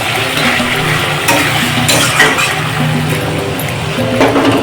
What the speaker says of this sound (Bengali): মশলা পেস্টটা দিয়ে দিয়েছি দিয়ে ভালো করে কষছি